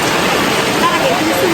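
Heavy rain pours steadily during a mountain hike at Bukit Anak Dara, a dense, close wash of water with a faint voice briefly rising over it.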